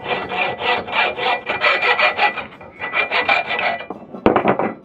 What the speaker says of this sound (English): cut off the handle using a hacksaw